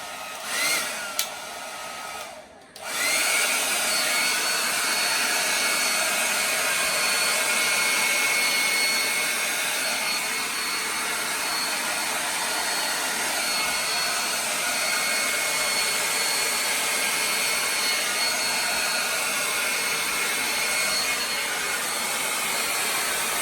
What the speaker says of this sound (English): Let me get my blow dryer and see if I can blow this.